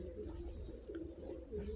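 Domestic pigeons kept for flying coo softly close by, giving low, murmuring calls that roll on through the short stretch, faint and without other sounds on top.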